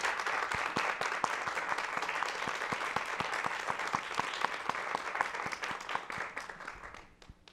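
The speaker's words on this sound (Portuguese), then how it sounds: "peço que vocês saúdem com uma calorosa salva de palmas" Parents receive warm applause at a university graduation ceremony: dense, sustained clapping from a large crowd that holds steady, then tapers off near the end.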